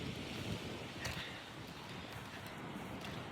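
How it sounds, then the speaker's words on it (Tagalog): Strong sea waves surge and wash continuously on a rough day out fishing, a broad, faint roar mixed with wind buffeting the microphone and no voices. "Malakas ang alon guys."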